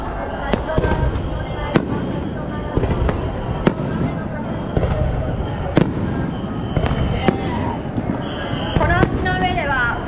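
Fireworks at the Sumida River fireworks festival in Tokyo burst in repeated sharp bangs, some followed by crackling, spaced every second or so, under steady talk from an announcer and the surrounding crowd.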